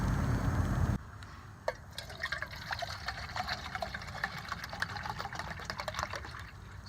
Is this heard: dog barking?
no